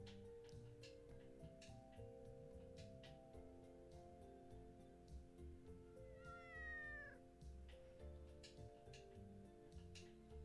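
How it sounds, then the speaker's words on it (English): A cat meows once somewhere nearby, a short rising-and-falling call heard faintly over steady outdoor background noise in Spain. "When you pass by that area there, you do hear a cat meow"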